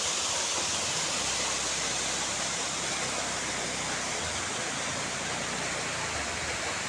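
Periya Kanal waterfall in Kerala roaring as a constant, broadband rush of falling water, close and loud, with no pauses or voices.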